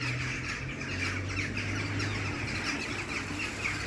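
Birds squawk and call outdoors in snow at night, a steady busy chatter of overlapping calls against a constant background hiss.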